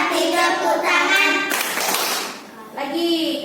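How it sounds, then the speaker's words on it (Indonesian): Children clapping their hands in time with a sung children's song, a burst of fast claps between stretches of young voices singing, loud and close. "Kalau kau suka hati, tepuk tangan"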